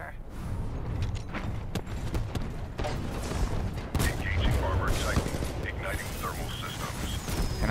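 Dense, rapid submachine gun fire in the shooter game Titanfall 2, sustained bursts crackling loudly throughout with game effects and faint voices mixed in.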